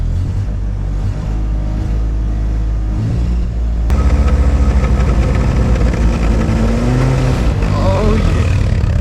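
A 1979 RX-7 sports car engine idles with a deep, rough rumble, then revs up and runs louder and steadier nearby, without any speech.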